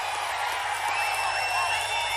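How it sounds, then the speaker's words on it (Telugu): An outdoor election rally crowd in Palakollu claps and cheers in a dense, continuous wash of applause that sounds fairly distant, with no single voice standing out. "గట్టిగా చప్పట్లు కొట్టి హర్షాన్ని ఆమోదాన్ని చేయాలి"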